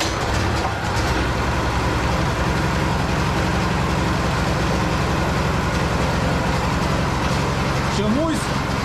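A Tagred/Matari portable generator engine runs steadily after starting, giving a loud, continuous low-pitched drone with a constant engine rumble and no clear pauses.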